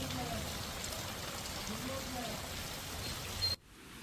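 Steady rain pouring down over the Nadiad area, a dense continuous hiss with a low rumble beneath, cutting off abruptly near the end.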